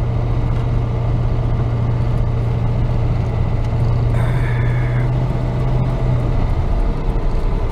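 A Chevrolet S10 pickup truck engine hums steadily while cruising at about 33 mph, a constant low drone with road noise and a faint tapping, heard from inside the cab.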